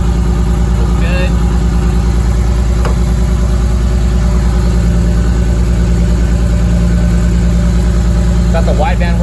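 Nissan 300ZX Z32 with a swapped, built 2JZ VVT-i engine running on the bench at a steady idle, a loud continuous low rumble with a regular pulse throughout and brief faint clicks over it.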